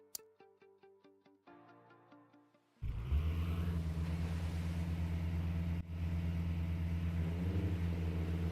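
Upgraded TO6 car engine in the Redline Reverie racing game, a loud, steady, close engine drone that cuts in after a short, plinking musical intro and holds with one brief dip.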